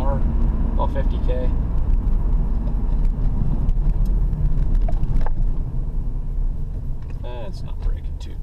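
A car with drum brakes drives at about 35 mph, giving a steady, loud road and engine rumble throughout, with a few brief faint voice fragments.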